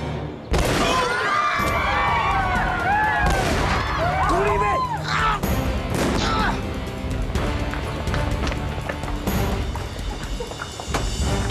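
A detonator explosion in an Argentine TV action drama: loud, close blasts and sharp crackling bursts go off repeatedly over a continuous roar of action noise.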